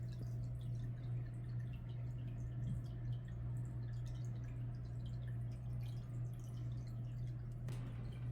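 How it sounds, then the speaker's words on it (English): A running aquarium filter in a moss wall tank hums steadily underneath while water trickles and drips in scattered light droplets, quiet and close, with a brief splash near the end. "Just let the filter run, let the tank clear out on its own"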